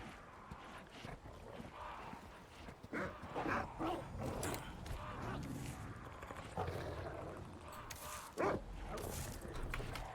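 Dogs barking in the Resident Evil 4 Remake video game, scattered barks and growls over a busy background of game sounds, with a sharp louder bark near the end, no voices over it.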